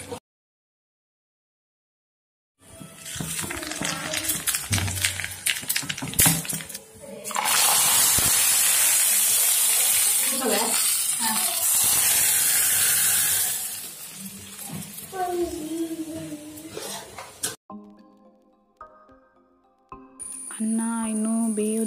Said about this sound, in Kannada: ಈಗ ಇಲ್ಲಿ ಒಗ್ಗರಣೆ ಕೊಡ್ತಾ ಇದ್ದೀವಿ